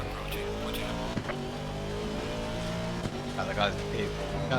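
A faster race car in a racing video game closes in from behind at Kyalami during a six-hour endurance race, its engine drone steady beneath the player's own car, with occasional sharp clicks and a voice talking over it.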